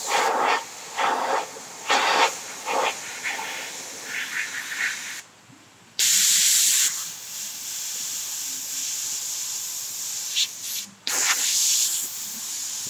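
Airbrush spraying paint while detailing a portrait of Bogart's eyes: soft, breathy hissing in short uneven bursts and longer steady passes, with brief pauses between them.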